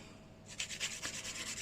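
A file smoothing and roughening an acrylic nail set over dried flowers gives soft, rapid rasping strokes. The strokes start after a brief quiet moment and continue close and faint.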